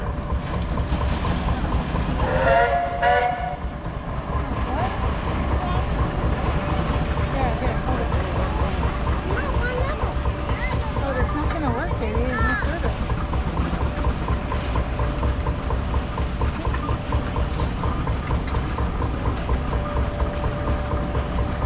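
A compound steam traction engine rolls past in a threshing show parade at the Rock River Thresheree, its continuous rumbling, clanking chug running steadily for the full length, with a brief loud whistle-like burst early on.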